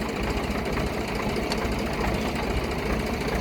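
A tractor engine drives a turmeric polishing machine, giving a loud, steady mechanical drone with rapid knocking and rattling that stays even from start to finish, with no talking.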